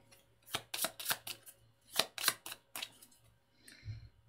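Cards are shuffled by hand during a solo tabletop game of Robinson Crusoe. There is a quick series of crisp, riffling snaps and slaps, close and fairly quiet, followed by a soft low thump.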